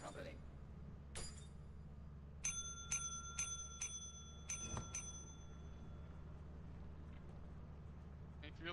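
A small bell rung in the video game Lethal Company, a quick run of bright dings in the middle with a couple of isolated strikes before, faint over a low hum.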